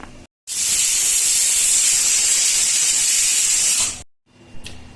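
A pressure cooker whistle: a loud, steady hiss of escaping steam blasts for about three and a half seconds, then cuts off abruptly into near quiet.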